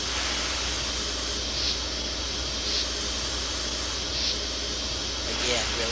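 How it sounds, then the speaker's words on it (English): Steam hiss from an A&WP #290 locomotive in the Trainz railway simulator, a steady broad hiss with a few brief stronger puffs, under a continuous low engine rumble. "You can hear the little steam hiss that turns it on and off."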